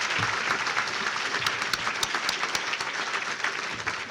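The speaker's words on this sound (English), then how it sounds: "Give them a great big hand." Congregation at Mount Zion Baptist Church giving a big hand, a broad wash of steady clapping throughout with a few sharper individual claps standing out.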